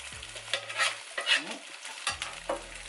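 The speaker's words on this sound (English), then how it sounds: "And I'll fry the other egg." An egg fries in a pan, a steady close sizzle with bursts of crackle as it is stirred and moved around, no voices over it.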